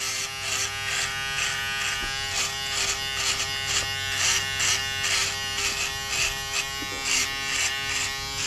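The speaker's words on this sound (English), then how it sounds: "I like it when men blow out their cheeks to shave." An electric razor buzzes steadily through a shave, its motor pulsing in quick rhythmic bursts as it moves over the face, loud and close with no talk.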